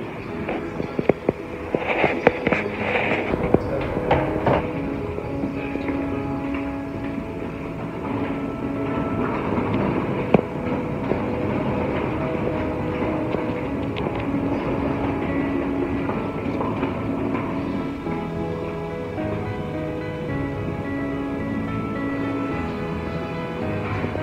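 A Tokyo metro train runs along the track, a steady loud rumble with rhythmic clickety-clack of wheels and brief squeals, continuous throughout without talk.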